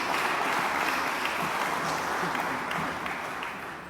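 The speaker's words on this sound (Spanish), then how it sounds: "Un aplauso para nuestro estimado" Audience applause for an invited anthropologist, journalist and political analyst at a book presentation event, a dense steady clapping from the crowd that holds for several seconds and then gradually tapers off.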